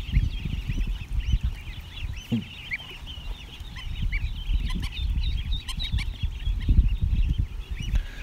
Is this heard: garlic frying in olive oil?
no